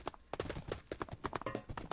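Hooves clip-clop in a quick, even rhythm as a horse moves in a modded Minecraft game, fairly faint and heard on their own.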